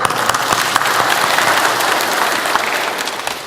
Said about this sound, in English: So I ask all of you to have a big clap in the name of Nagaland Wrestling Association and the Nagaland wrestlers.